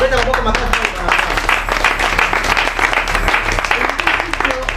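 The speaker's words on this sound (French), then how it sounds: "Nous allons applaudir la parole de Dieu." A congregation applauds the word of God at a church service, a crowd of clapping hands rattling steadily throughout while voices call out over it.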